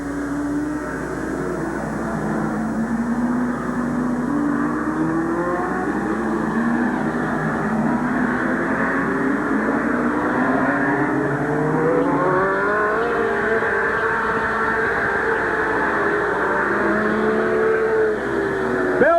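Several race cars lap the Midvale Speedway oval at a 1986 fall classic, their engines a continuous loud roar with rising and falling pitch as they pass and overlap.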